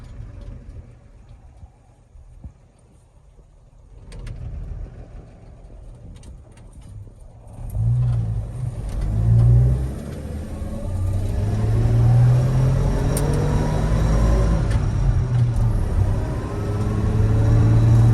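A 1959 Chevrolet Apache Fleetside pickup cruises in third gear at about 35 mph; a low engine rumble swells after a quieter start and holds steady and loud from the cab, with road and wind noise mixed in.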